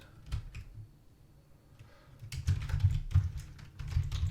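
Typing on a computer keyboard close by: scattered single key taps at first, then a denser run of quick clattering keystrokes in uneven bursts.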